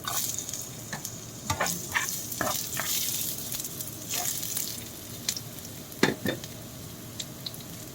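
Garlic and ginger sautéing in hot oil, a bright crackling sizzle throughout with frequent clattering scrapes and stirring strokes against the pan, close and fairly loud, one sharper knock midway, no one speaking.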